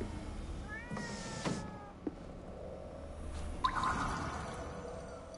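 A cat meows in the video game Ghostwire: Tokyo: a couple of short, clear meows over a steady low game ambience, with a soft dripping tick or two and no talking.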